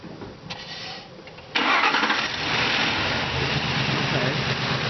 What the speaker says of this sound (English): Restart the car.